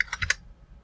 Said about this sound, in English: I'm just typing the value